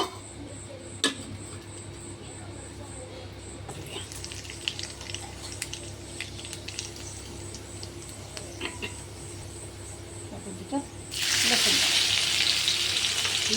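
Garlic sizzles and crackles in two spoonfuls of hot oil for chhole bhaji, a steady close fry with small ticks and pops, rising to a louder, brighter hiss near the end.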